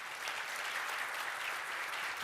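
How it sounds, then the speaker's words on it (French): A studio audience at a midday TV show in Bouaké claps warmly for a guest, dense continuous applause, steady and fairly loud throughout, with no voices over it. "Son nom, c'est Ousmane Doumbia, que nous applaudissons très fort."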